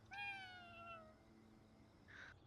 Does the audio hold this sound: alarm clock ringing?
no